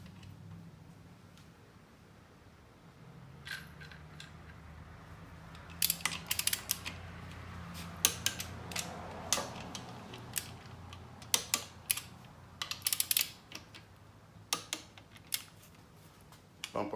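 Torque wrench tightening alternator bracket bolts on a 5.3 LM7 engine, heard as a series of sharp clicks and ratcheting bursts, some in quick clusters, close and fairly quiet over a low background hum.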